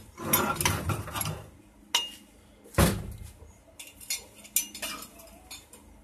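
New clutch plates for a 4R44E/5R55E transmission are being installed, making a run of sharp metallic clinks and clatters. They come up close in uneven bursts with short pauses between them.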